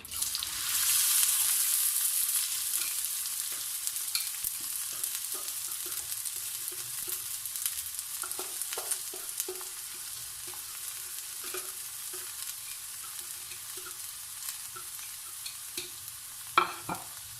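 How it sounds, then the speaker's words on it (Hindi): Chopped onions hit about a cup of hot oil over high heat, starting with a loud hiss that settles into a quieter sizzle, with repeated spoon clinks and scrapes from stirring and a sharper knock near the end. "अभी अनियन जो हमने काट लिए थे ये मैं डाल दूंगी।"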